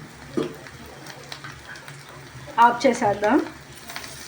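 Spicy village-style chicken fry sizzling in a pan, a steady soft crackle running underneath while someone speaks briefly near the end.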